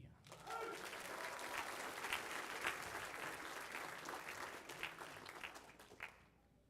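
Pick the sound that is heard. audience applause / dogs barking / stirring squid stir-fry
audience applause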